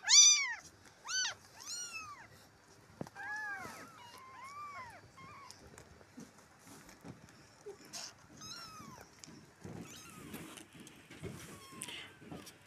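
Four kittens meow in high, thin cries, overlapping at first and then coming in scattered bursts, with faint rustling and shuffling underneath.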